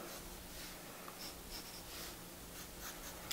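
A pencil sketches lines on paper while drawing a fashion croquis figure, giving a soft continuous scratching and rubbing that runs quietly and steadily throughout, with no voices.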